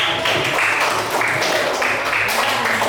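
Classroom applause after a student group's presentation at a vocational high school, a steady broadband patter of clapping that fills the whole stretch at moderate loudness, with no talk over it.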